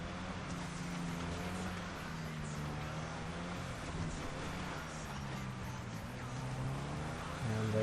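A car engine hums steadily as it climbs a narrow hill in a video game, a continuous drone with a low, wavering tone that stays at even loudness throughout, with no voices present.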